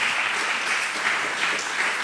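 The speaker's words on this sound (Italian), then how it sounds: "Un grande applauso, dai, facciamo" Sustained applause from an audience at a school event at the Istituto Roberto Rossellini, dense and steady throughout, with no voices standing out.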